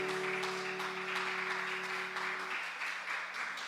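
A crowd applauds steadily at a church worship service, many hands clapping together in a sustained wash, with a sustained tone underneath that fades partway through.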